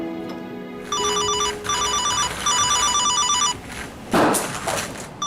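A telephone rings in repeated electronic trilling bursts over room noise, with a louder rustling clatter near the end.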